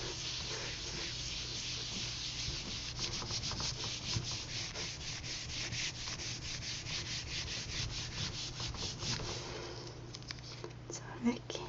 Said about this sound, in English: You can also, using a wooden spoon, rub over the back of it.